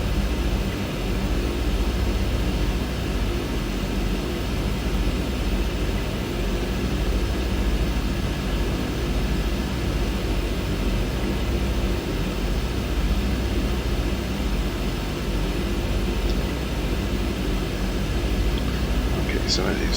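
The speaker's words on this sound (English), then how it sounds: "Plane coming in from Tampa." A simulated aircraft approaches in Microsoft Flight Simulator 2020, inbound from Tampa toward Daytona Beach, giving a steady broadband engine and airflow roar held at an even, fairly loud level throughout.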